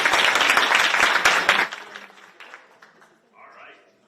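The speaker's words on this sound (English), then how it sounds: "join me in receiving Paul Carmody by a nice round of applause" Audience applause for a speaker at a healthcare workforce summit: dense clapping for about a second and a half, then thinning into scattered claps and murmuring voices.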